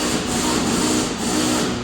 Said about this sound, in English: So I gotta keep sanding